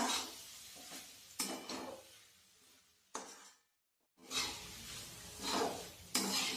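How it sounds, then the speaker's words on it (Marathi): Spoon stirring cabbage bhaji with freshly added coriander in a pan, with soft scraping strokes and faint sizzle in intermittent bursts, quiet and close, with one short silent gap. "आता आपण कोथिंबीर छान मिक्स करूया"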